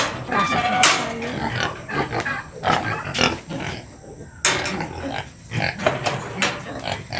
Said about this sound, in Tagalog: Ito po yung aking alagang mga baboy, native pig.